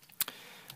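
A few sharp clicks from a mouse or key while navigating the menu of Game Dev Story, one strong click followed quickly by a lighter one and a faint tap after, close and isolated with no talk.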